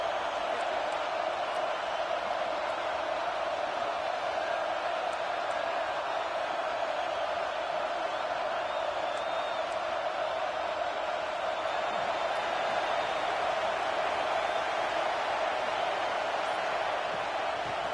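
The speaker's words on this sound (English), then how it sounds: "listen to this crowd noise. This stadium is vibrating." Steady roar of a packed stadium crowd at a college football game, a dense, unbroken wash of voices holding at an even level throughout, faint and distant rather than close.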